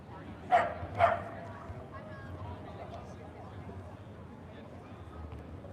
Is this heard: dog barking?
yes